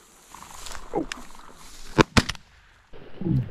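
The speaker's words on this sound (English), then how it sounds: "So I shoot this one that comes to the left here, and Tom shoots one that goes to the right." Two sharp shotgun blasts ring out in quick succession outdoors while hunting quail and pheasant in Kansas, loud and close, with voices and rustling before and after.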